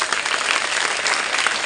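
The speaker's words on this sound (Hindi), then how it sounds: "जोरदार से तालियां हो जाए।" Loud, dense applause fills a school Independence Day gathering, the crowd clapping continuously and evenly for a short stretch.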